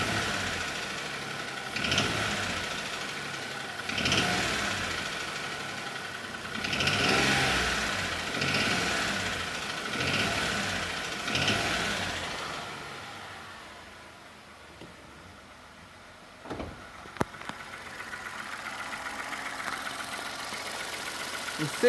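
Hyundai HB20 1.0 engine revved repeatedly with the microphone held close to the engine bay, rising and falling in regular bursts, then settling to a quieter idle with a few sharp clicks near the end.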